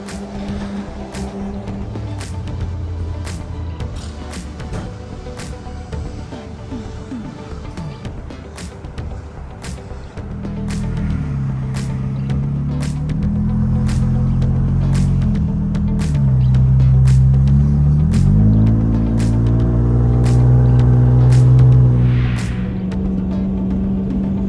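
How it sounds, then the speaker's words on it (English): A vehicle drives along the road on a run to pick up gutter installation materials, with a steady low engine rumble and road hum that swells as it speeds up. Sharp ticks sound at intervals over the drone, and no one speaks. "Driving to get some materials for today."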